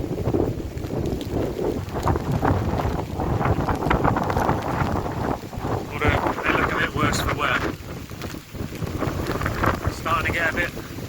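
Gusting wind buffets the microphone steadily with a soft patter of rain on a misty hill walk along the South Downs Way, with a person's voice heard under the noise.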